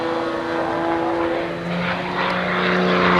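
An aerobatic propeller airplane performs at the Oshkosh 1989 airshow, its engine droning loudly and steadily with a rising pitch as it dives and builds speed.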